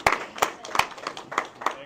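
A small group claps in a steady rhythm of about six sharp claps, close by, in a post-game press room after a college football overtime win over Baylor.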